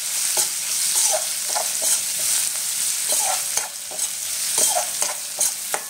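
Rice with coriander is stirred and sautéed in a pan for raw mango rice. A spoon scrapes the pan in repeated close strokes over a constant bright sizzle.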